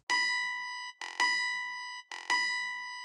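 Chopped one-shot sample sequenced in FL Studio with a low release: three bright, harmonic tonal stabs in a steady choppy rhythm, each about a second long, cutting off sharply before the next hits, close and clean with no voices.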